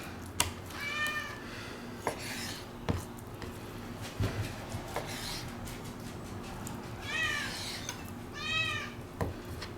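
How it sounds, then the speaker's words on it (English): A hungry cat meows repeatedly in a kitchen during cooking, with several distinct, fairly close meows spaced across the stretch over a low hum and occasional clicks and knocks. "my cat Shorty is just, he won't stop being hungry"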